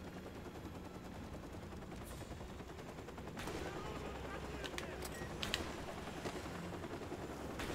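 Rapid gunfire rattles through a Call of Duty 4 Modern Warfare Remastered match, with bursts of machine-gun shots and sharp single cracks layered over continuous game noise at moderate level.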